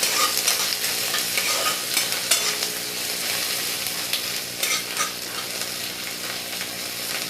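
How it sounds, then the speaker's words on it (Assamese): Whole cumin and panch phoron crackle and sizzle in hot oil for an Assamese rohu fish curry with black sesame, with a spoon stirring through them in bursts of scraping, up close and with no voices. "ভালদৰে লৰাই দিছোঁ।"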